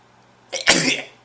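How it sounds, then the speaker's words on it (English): A single sharp sneeze, a brief breathy intake followed by an explosive burst, close and clear against a quiet background. "I have to sneeze."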